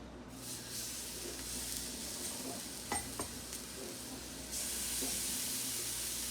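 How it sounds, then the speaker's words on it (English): Seasoned steaks sizzling in a hot cast iron pan on a stovetop, a steady close hiss with a few faint scrapes, growing slightly louder toward the end. "when it hits the pan, it's definitely got some sizzle going"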